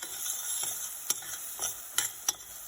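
Turmeric, chili powder and salt are stirred into onions frying in a pan for paneer butter masala, giving a steady low sizzle broken by several sharp spoon scrapes and clicks near the end, with no voices.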